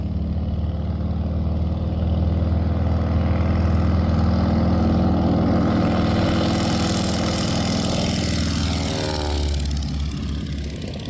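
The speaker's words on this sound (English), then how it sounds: "soon enough, airplanes were flying and people were giving rides" Small airplane engines idle and fly at a vintage airfield. A loud, steady propeller drone holds throughout, and near the end the pitch sweeps as one plane passes close.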